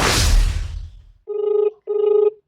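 After a burst of broadband noise fades, a telephone rings twice nearby, two clear electronic trills of equal length separated by a short pause.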